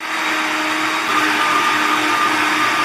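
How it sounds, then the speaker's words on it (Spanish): A kitchen blender runs steadily at high speed, blending washed huacatay leaves for a Peruvian pachamanca marinade; a dense, continuous whirring roar, close and loud, with no voices. "Ya una vez lavado, vamos a ponerlo en la licuadora."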